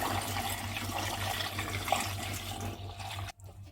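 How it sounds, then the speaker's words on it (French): Longan and betel nut mixture pours steadily into a fermentation tank for Thai longkong wine with fermented rice, a continuous close liquid splash and rush lasting several seconds before cutting off abruptly near the end. "Tatamou versera le tout dans la cuve de fermentation."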